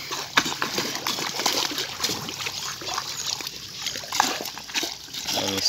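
Pirarucu fish in a farm pond thrash and splash at the surface, with repeated splatters and sloshing water nearby and a steady wet background between bursts.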